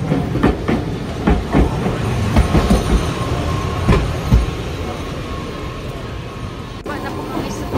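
Train pulling into a station in Kumamoto, Japan, with a steady rumbling roll, a series of sharp wheel clicks over the first few seconds, and a faint squeal as it slows; no talk.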